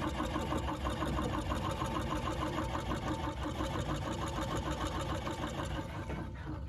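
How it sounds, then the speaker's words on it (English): An unthreaded National Two Spool treadle sewing machine runs at a steady pace, a close, continuous rapid mechanical clatter with fine regular ticking throughout. "I'm gonna unthread this so you can just see the motion that this makes."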